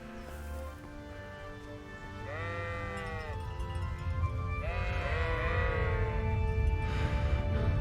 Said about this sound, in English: there's the sheep